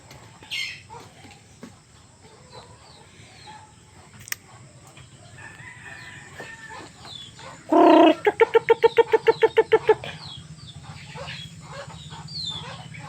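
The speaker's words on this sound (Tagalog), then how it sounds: "Ayun ang lumapit ng mga manok natin." Chickens on a farm draw near, with a rooster crowing loudly around the middle, followed by a rapid run of sharp clucks, over quiet background clucking and rustling.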